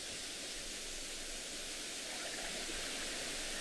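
Steady rushing waterfall in the video game Uru, a constant broadband roar of falling water heard alone at low level with no voices.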